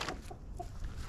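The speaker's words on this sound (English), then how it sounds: "Now it's time to feed the chickens." Chickens at feeding time give a few soft, short clucks on a cold day, close by and fairly faint over low outdoor rumble, with a sharper call near the end.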